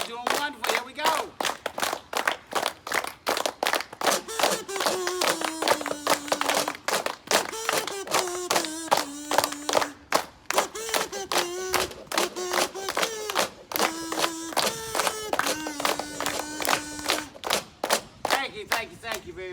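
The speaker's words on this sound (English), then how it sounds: "Keep clapping. Y'all doing wonderful." A crowd claps along in steady rhythm to live country music from a peddler's show, the sharp regular claps sitting under a bright, loud musical performance throughout.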